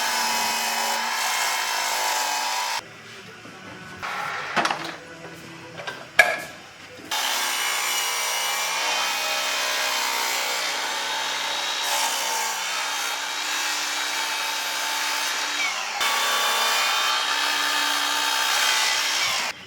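Old barn wood being sawn for a cookbook holder, a close, steady rasping saw sound running for several seconds at a time with a few brief pauses and knocks between strokes.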